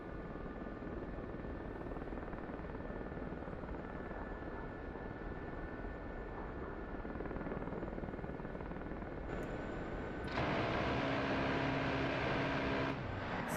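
Helicopter in DCS World flying over Afghanistan: a steady engine and rotor drone holds throughout, growing louder and brighter near the end with a sustained whine, no voices.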